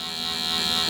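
Electric hair clippers fading short Asian hair, a close steady buzzing hum that holds unbroken throughout.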